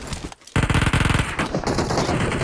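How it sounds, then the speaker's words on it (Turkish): Rapid automatic gunfire from the mobile battle-royale game PUBG Mobile rattles out in a loud, close burst of shots lasting about two seconds after a brief pause. "kim vuruyor?"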